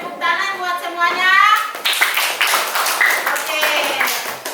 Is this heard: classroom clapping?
yes